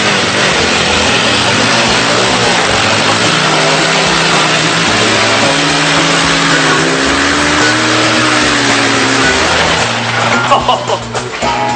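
A Honda Cub motorcycle engine runs in gear, a loud, close, steady drone whose pitch wavers up and down as it pulls forward.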